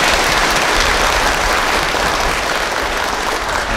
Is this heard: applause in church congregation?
yes